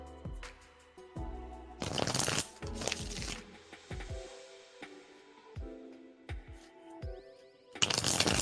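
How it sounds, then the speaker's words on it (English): Tarot cards shuffled by hand in several bursts of riffling and sliding, with short pauses and soft taps between, close and clear with no talking. "All right, Terry, I'm going to shuffle for you in just a second."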